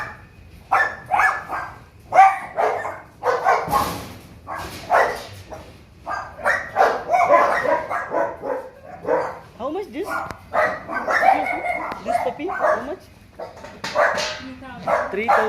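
Puppies in a pet shop in Riyadh, giving repeated sharp, high barks and yips close by throughout, mixed with occasional whimpers, while people talk over them.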